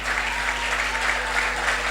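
An audience at a stakeholder engagement forum gives Mrs. Daramola a round of applause, dense and steady clapping that fills the whole short stretch at an even level.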